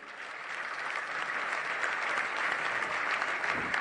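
Loud, sustained applause from a large crowd at a farmers' union rally held in a grain market, a dense wash of clapping that holds steady for a few seconds with no talk over it.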